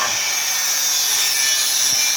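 Wood being cut with a saw: a steady, loud, continuous rasping grind with no pauses, close up and heard alone without talk.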